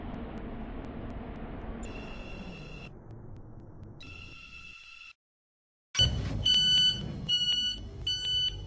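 Train at Stepford Airport Central station: continuous rumbling of a railway carriage with repeated electronic alert chimes, a brief silent gap, then louder beeping tones over the running noise.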